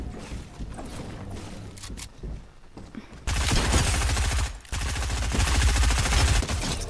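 Rapid automatic gunfire from the Fortnite video game, loud and dense bursts of shots close by, sustained through the latter half with a brief gap, over a busy game soundscape.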